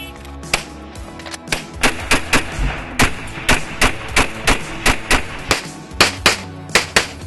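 Gunfire on a practical shooting competition stage rings out in rapid strings of sharp, loud reports, some doubled, with short pauses between groups as the shooter moves through the course.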